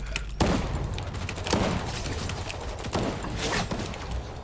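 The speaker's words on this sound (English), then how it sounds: "Oh, I'm getting shot again, dude." Gunfire in a sniper video game comes as repeated heavy shot thumps, about five over a few seconds, each standing out from a dense, constant rumble of battle noise.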